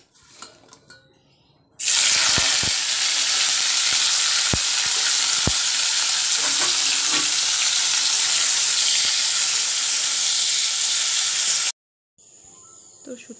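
Cut dried fish (shutki) hits hot oil in a wok and bursts into a loud, dense sizzle that holds steady for about ten seconds with a few utensil clicks, then stops abruptly, leaving quiet kitchen sounds.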